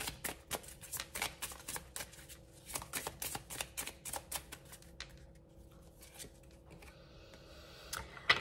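Cards are handled and drawn for a cartomancy reading: quick, crisp flicks and snaps in a rapid cluster, then quieter sparse handling with a final soft tap, all faint and close with no talking.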